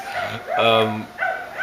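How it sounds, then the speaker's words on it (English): Dogs at a nearby dog park give short barks and yips, a couple of quick vocal bursts close to the microphone, mixed with a person's speech. "so there's always dogs barking."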